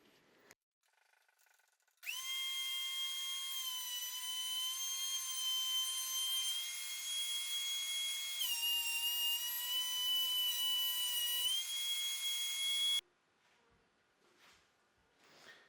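A power planer running along a wooden board to level its reverse side, giving a steady high-pitched whine for about eleven seconds with a brief pitch dip partway, preceded and followed by quiet handling noises.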